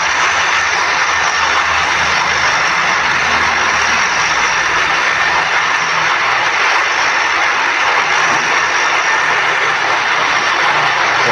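Steady, loud roar of a turboprop airplane engine at high power during takeoff in a flight simulator game, a constant droning hum throughout with no voices.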